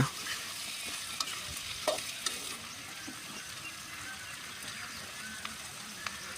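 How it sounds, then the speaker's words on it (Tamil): Onions with red chillies and curry leaves sauté in a pan with a quiet, steady sizzle. Occasional scrapes and taps from stirring punctuate it, with no talk. "வெங்காயம் நல்லா வதங்குற வரைக்கும் நல்லா கிளறி விட்டுடலாங்க"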